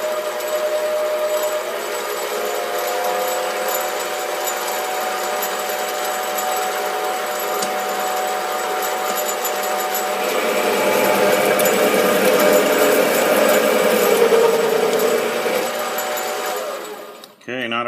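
A SIEG 7x14 mini lathe turns at 600 RPM while cutting metal, giving a steady mechanical whine. The pitch shifts and grows louder about halfway through as the tool engages, then the sound stops abruptly near the end.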